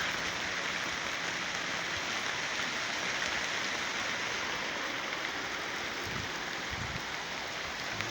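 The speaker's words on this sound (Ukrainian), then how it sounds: "Ну, йду по дощу" Steady rain falling and pattering on surfaces, a constant dense hiss with no voices, close and even throughout.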